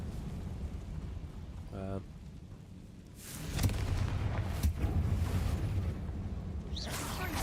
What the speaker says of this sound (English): Confringo! Crap. I want to burn that, not that one.